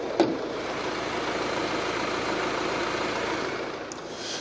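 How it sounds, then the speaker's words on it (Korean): A diesel engine in an imported sedan idles steadily up close, a smooth, even, low mechanical hum with no revving. "엔진 소음이 굉장히 정숙하고요"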